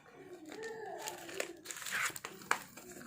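A plastic zipper bag pulled open at an unboxing, with close crinkling and rustling, a few sharp crackles and a small snap near the end.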